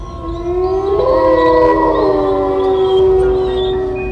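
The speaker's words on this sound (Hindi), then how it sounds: "इन लोगों को बहुत सारे लोमड़ियों की आवाजें सुनाई देने लगती है" A pack of cartoon foxes howls at night in a desert, several long wavering howls overlapping and rising and falling together, loud and steady for a few seconds with no talking.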